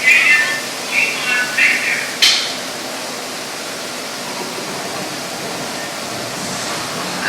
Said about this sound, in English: This sudden shower is really just a special effect. We've rigged up a series of water nozzles just above your tram.